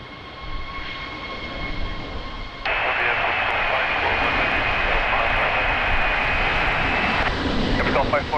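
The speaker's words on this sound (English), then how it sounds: "Airbus 321 is now departing" An Airbus A321 departing Lisbon Airport in a strong crosswind, with a loud, steady roar of jet engines building and holding, mixed with radio chatter and a broadband wind-like rush.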